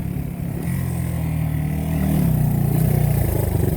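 Engine of a 1970 Honda CB100 Super Sport motorcycle being ridden in cold weather, a loud, close, steady drone with a buzzing note that climbs slightly as the bike speeds up.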